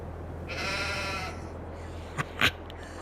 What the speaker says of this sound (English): Awesome, we've got sheep.